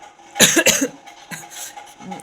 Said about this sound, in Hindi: ना थोड़ी सी मेरे को खांसी हो रही है